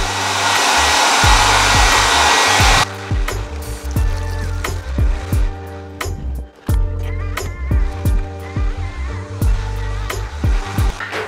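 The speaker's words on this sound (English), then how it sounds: "Then run the heat gun for about 5 minutes." A heat gun blows steadily and loudly while drying drywall patch compound, lasting about three seconds before it cuts off. Sharp clicks and ticking sounds follow.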